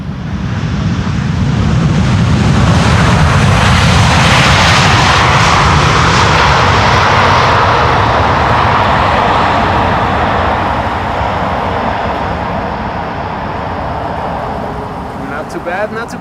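An Atlas Air Boeing 747 lands on the Polderbaan runway at Schiphol, giving a loud, broad jet roar that swells and holds for most of the stretch, then eases slightly near the end.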